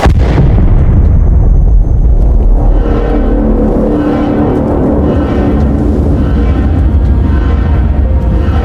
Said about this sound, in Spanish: Se oyó una explosión sorda